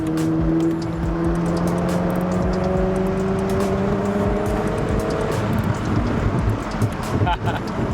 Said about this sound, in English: I'm not sure if you guys can hear those crackles and gurgles.